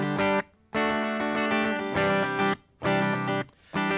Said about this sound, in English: the guitar definitely goes clean, and it sounds highly compressed